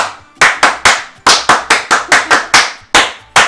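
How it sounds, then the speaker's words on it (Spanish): Clapping for a raffle winner: about a dozen sharp, close claps in an uneven rhythm, sounding like a small group rather than a full crowd. "Bueno, un aplauso para Reina."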